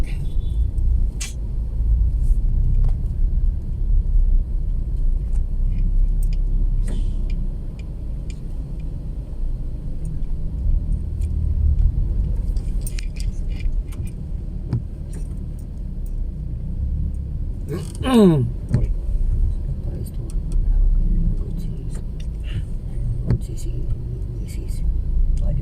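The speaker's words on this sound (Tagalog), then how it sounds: "Grabing traffic." Heavy road traffic on EDSA, a continuous low rumble of car engines close by, with brief ticks and a passing higher whine partway through, under quiet talk.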